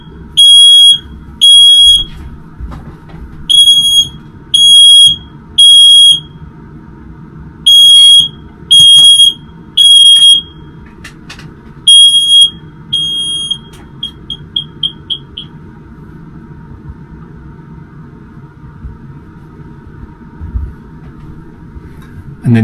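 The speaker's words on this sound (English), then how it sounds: "And then the alarm goes off in the Caravan." An alarm goes off inside a caravan, sounding loud, close, piercing beeps in irregular bursts before breaking into rapid, fading chirps and stopping.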